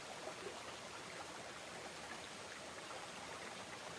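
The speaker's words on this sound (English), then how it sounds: "But this is a nice little brook." A small jungle brook in Costa Rica flows in a soft, even, steady wash of water, faint and unbroken with no voices.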